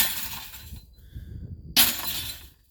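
Old TV glass breaking in a pile being cleared over gravel ground, with scraping and crunching, a quiet pause, then a sudden sharp shatter and tinkling shards settling.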